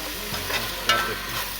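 Boiled macaroni being stirred into a frying masala with a little coriander, a steady close scraping and soft sizzle with a brief louder clink of the spoon partway through.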